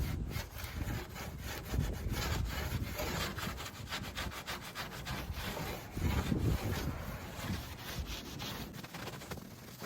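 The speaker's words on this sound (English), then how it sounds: "wet sand that clear off" Clear coat on a 1957 Pontiac Star Chief is wet sanded by hand in steady, rhythmic rasping strokes, close and continuous with no talking.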